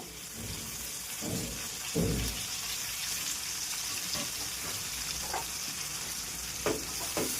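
Green chillies for lemon rice fry in a pan with a steady, close sizzle, broken by a few soft stirring scrapes and clatters.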